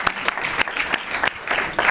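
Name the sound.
audience applause welcoming vocal performers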